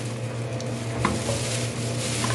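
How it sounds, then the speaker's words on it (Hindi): Potatoes and mutton bhuna-frying together in a pan for Dhaba-style aloo gosht, giving a steady close sizzle with scraping stir strokes and a few light clinks of the utensil, with no talk. "हम आलू की और गोश्त की भुनाई करेंगे"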